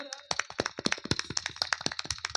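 An audience at an outdoor village Ramlila performance claps for its donors, scattered hand claps that come quickly and unevenly, with a voice heard briefly at the start.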